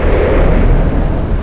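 Warship turret guns fire and a magazine detonates in the naval strategy game Atlantic Fleet, making a continuous, loud, rumbling barrage of booming blasts with no voices over it.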